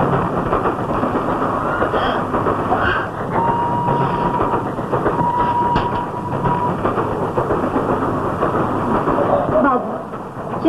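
A moving train rumbles steadily and loudly throughout, carriages clattering along the rails with a faint whistle-like tone, and a voice talking over the noise.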